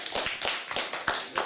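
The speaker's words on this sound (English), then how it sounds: "Give you a big clap." Scattered hand claps from a small audience following a didgeridoo performance at a lecture in Sydney, a few uneven claps spread across a short burst without voices.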